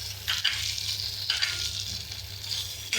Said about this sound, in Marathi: अरवी जराशी फ्राय करून घेऊया